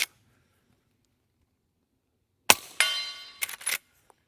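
A suppressed Henry lever-action rifle fires regular .38 Special rounds outdoors, giving a sharp muffled crack with a metallic ring, followed moments later by the clack of the lever cycling.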